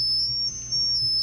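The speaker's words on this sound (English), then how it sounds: "So our highest pitch sounds sound something like this." Very high-pitched organ pipes hold steady, piercing tones that stay faint above a low room hum, sounding continuously without a break.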